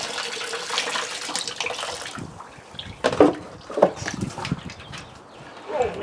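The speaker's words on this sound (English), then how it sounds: "I think we'll pan right here in the tub like I did last time." Water sloshing and splashing in a tub as black sand dredge concentrates are panned, with irregular swishes and a few sharper splashes close by, no talk.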